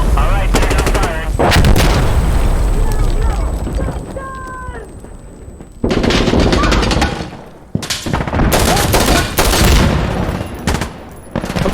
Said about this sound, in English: Alright, they're now firing.